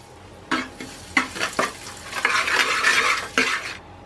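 Spices and puffed rice stirred in a pan over low heat, with sharp scraping strokes of a spoon against metal and a dry rustling hiss as the crisp grains are tossed around.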